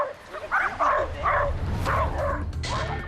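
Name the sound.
dog howling and barking in a park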